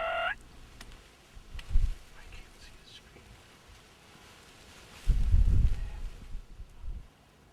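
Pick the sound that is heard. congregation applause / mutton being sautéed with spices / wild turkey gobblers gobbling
wild turkey gobblers gobbling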